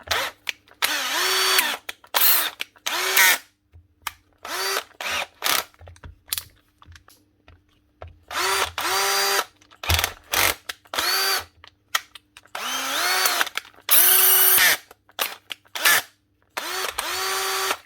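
A repaired Makita cordless drill whirs in repeated short and longer bursts, loud and close, with brief pauses and clicks between runs.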